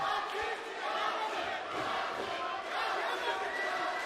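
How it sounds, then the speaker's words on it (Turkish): A large crowd of fans in Istanbul chants rhythmically for fighter Yasin Tunç during his bout against Mousa Masoud, a continuous, moderately distant roar of massed voices. "Yasin tezahüratları başlamış durumda İstanbul'da"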